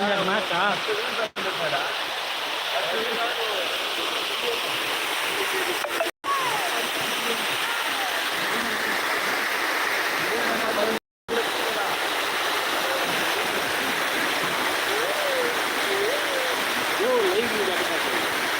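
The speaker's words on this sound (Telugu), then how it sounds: "నేను నేచురల్ని వాటర్ని వాటర్ ఫ్లోని పెడుతున్నాను" Water in the Kushasthali river rushes and splashes steadily and loudly, a continuous close flow with brief dropouts and a faint voice beneath.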